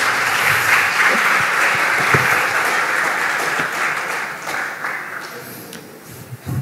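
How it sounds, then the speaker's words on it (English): Sustained audience applause fills a conference hall after a lecture at an international applied science conference, a dense wash of many hands clapping that eases slightly toward the end. "Give him applause."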